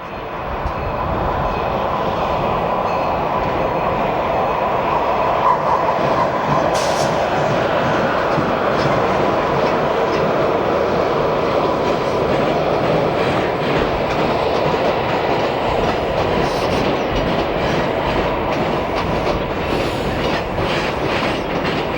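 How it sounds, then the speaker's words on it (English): An Amtrak maintenance-of-way rail crane rolls through station lead tracks on the Northeast Corridor in New Jersey, giving a steady, loud rumble with rhythmic wheel clatter over rail joints throughout. "Amtrak maintenance of way crews headed for their next repair job move a rail crane through the station lead tracks."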